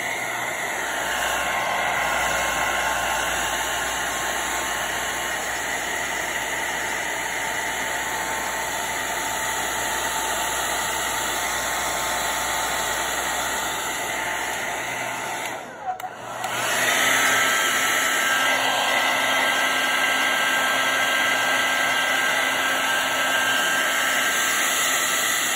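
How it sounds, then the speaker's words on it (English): Handheld hair dryer blowing hot air over a coffee painting to dry it, a loud steady whirring roar with a brief dip in the middle before it resumes, close and constant throughout. "I got my blow dryer here"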